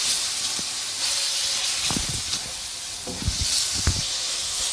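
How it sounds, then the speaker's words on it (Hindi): Chicken frying in a pan over medium heat gives off a loud, steady hiss and sizzle, broken by scattered low knocks and scrapes from stirring up close. "चिकन को हम 5 मिनट तक फ्राई करेंगे। मीडियम पे हीट है।"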